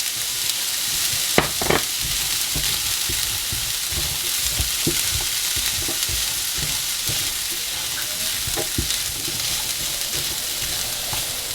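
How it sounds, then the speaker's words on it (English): Spices cook off in a worn, burnt, not very non-stick frying pan, giving a continuous close sizzle broken by scattered utensil taps and scrapes, with no voices. "I'm going to add the spices and just cook those off a bit"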